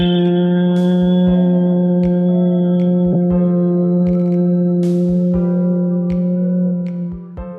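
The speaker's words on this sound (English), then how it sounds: "Now we're going to make a humming sound." A sustained steady hum during a pranayama breathing exercise, voiced at a low pitch and heard close, lasting several seconds with soft clicks and echo before fading at the end.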